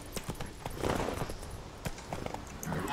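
Hooves of a horse being ridden toward a portal in The Witcher 3, a quick, fairly faint run of galloping clip-clops repeating under a soft ambient game background.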